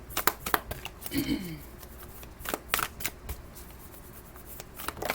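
Beyond Lemuria oracle cards being shuffled by hand, bursts of crisp riffling and slapping at an irregular pace, close up, with someone talking over them.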